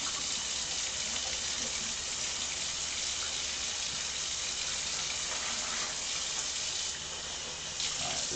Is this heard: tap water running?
yes